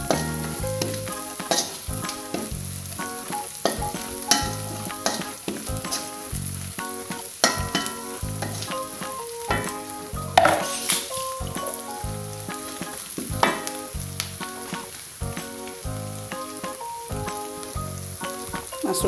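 Spice paste for catfish pecak sizzling and frying in a pan, with steady close crackle and repeated scraping stirs of a spoon throughout.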